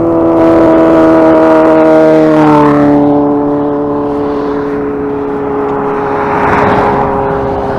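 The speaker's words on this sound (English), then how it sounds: "Look out, here comes a motorcycle." A motorcycle rides along a street and passes close by, its loud engine drone dropping in pitch as it goes past and fades away.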